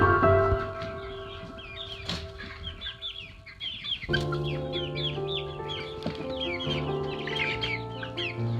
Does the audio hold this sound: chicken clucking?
yes